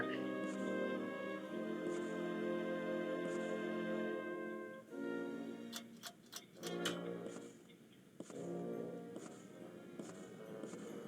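A cuckoo clock ticks inside a Wallace and Gromit video game, sharp, evenly spaced clicks in a short run, heard over a steady musical background.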